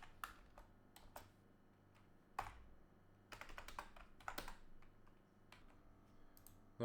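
Code being typed on a computer keyboard, with soft, close key clicks in irregular bursts and short pauses, fairly quiet with no talking.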